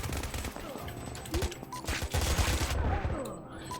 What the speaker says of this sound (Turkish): Savaş bölgesinde savaş silahlarıyla oynuyoruz.